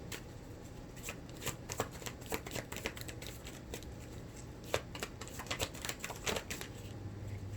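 Tarot cards are shuffled and drawn by hand, a soft, quick riffle of crisp flicks and slaps repeating steadily throughout, close but faint with a low background hum.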